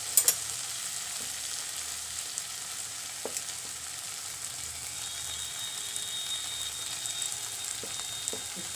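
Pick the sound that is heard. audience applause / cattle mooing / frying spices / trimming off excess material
frying spices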